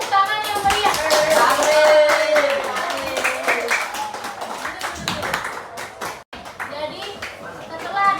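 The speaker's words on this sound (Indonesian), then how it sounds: "Tepuk tangan yang meriah." A class of children claps together in a primary-school classroom, a brief burst of applause under overlapping children's voices and chatter that carries on throughout.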